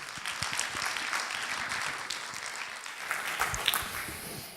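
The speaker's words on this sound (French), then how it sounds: "On peut applaudir Jérôme Ferrier." Conference delegates at a national gas congress in France applaud a speaker taking the stage, a moderate, slightly thin patter of hand claps with a few sharper individual claps near the end.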